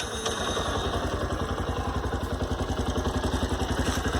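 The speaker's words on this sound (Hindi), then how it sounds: "तो मैं अभी सेल्फ करके आपको एग्जॉस्ट एक बार सुना रहा हूँ।" A Bajaj Platina 110 ABS BS6 motorcycle, self-started, settles into a steady idle, its exhaust thumping in a fast, even low putter, close and continuous.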